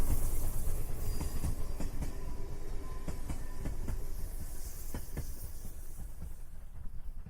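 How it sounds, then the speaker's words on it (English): A train sound effect rolls along steadily, with rhythmic clickety-clack of wheels over rail joints and a low rumbling carriage noise, fairly near and fading slightly toward the end, with no voices. "So, Gunny, bring that train in."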